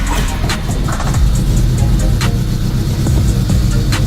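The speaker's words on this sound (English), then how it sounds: "let's get this car started and see if we can move it" Honda hatchback car starting, its engine turning over and settling into a steady low rumble with rough idle pulses, close and loud with no talking.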